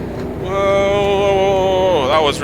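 A race car engine at Edmonton Speedway holds a steady, strong tone, then drops in pitch as it downshifts, loud and close throughout.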